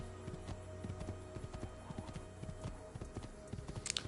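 Horse hooves clip-clop at a quick pace in the Assassin's Creed video game, a rapid run of close, sharp, rhythmic thuds that goes on steadily, quiet in level, with a brief high snort or whinny near the end.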